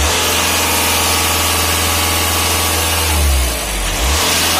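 A Volkswagen Passat engine with a dual-mass flywheel problem runs loud and close, a steady rumbling drone that swells in a brief rev near the end, with no talk over it.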